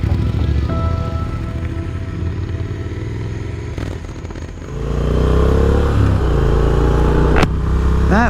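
A motorcycle with a plugged, repaired rear tire rides down the road, its engine droning loudly and close throughout, with rising revs as it accelerates and a brief clatter partway through.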